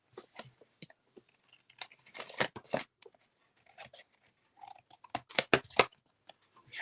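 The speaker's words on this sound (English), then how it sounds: "take my paper snip scissors and just cut that off" Scissors snip through paper in several quick, close bursts, clustered in two runs with quiet gaps between.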